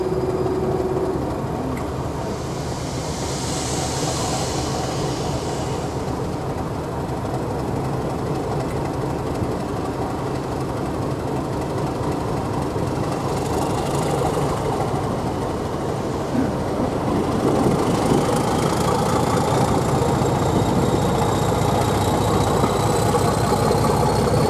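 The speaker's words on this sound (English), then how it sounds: "Now back at Groombridge, me and Jordan catch the train down to Eridge to have one last bash on the Class 31 from Eridge down to Tunbridge Wells." A Class 31 diesel locomotive train on the Spa Valley Railway between Eridge and Tunbridge Wells, a steady loud engine drone with rolling rail noise throughout, heard close from on board, with no talk.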